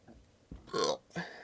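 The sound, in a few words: burp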